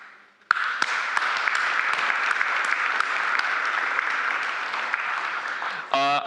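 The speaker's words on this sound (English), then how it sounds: "A little bit of clap for all of you." A conference audience at the SyliusCon keynote bursts into dense, steady applause that starts abruptly and keeps an even level throughout, then a voice cuts in at the very end.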